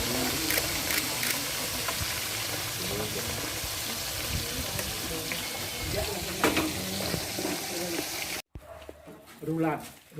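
Egg frying in a pan at a food stall sizzles and crackles continuously, with stirring and running water mixed in, then briefly cuts out before softer sizzling resumes; voices talk around it.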